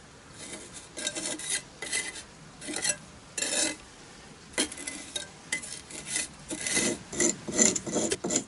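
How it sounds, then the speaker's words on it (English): Steel scraping tool dragged repeatedly across fresh mortar at the corners of a brick elliptical arch, giving close, rasping strokes in irregular bursts separated by short pauses. "We use this scraping tool that goes very well to remove the mortar from all corners"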